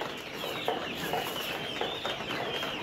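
Layer chickens, 59 days old, clucking steadily in a poultry shed, with several soft overlapping clucks and chirps forming a continuous flock murmur at moderate level and no talk.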